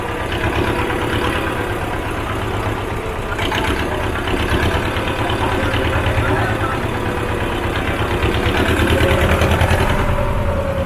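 A motorboat engine runs steadily as the boat moves through a creek off the Ganga river, a continuous loud drone with voices talking over it.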